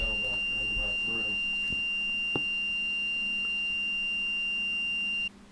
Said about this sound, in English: Alarm bell back in the bathroom.